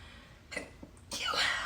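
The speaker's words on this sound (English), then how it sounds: "So I have to sneeze." A person sneezes indoors: a short, breathy intake is followed by a loud, sharp burst that trails off into a rough, hissing exhale, all close to the microphone.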